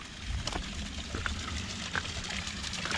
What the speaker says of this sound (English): Little waterfall here for you.